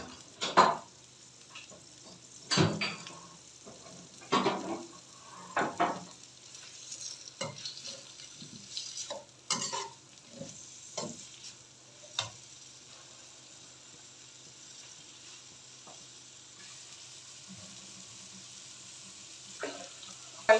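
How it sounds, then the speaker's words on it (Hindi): Onions fry in a pan for chicken biryani and are stirred now and then, a faint steady sizzle under scattered close scrapes and knocks of a spoon against the pan, with the stirring growing sparse toward the end. "इसको हम थोड़ा सा फ्राई करेंगे"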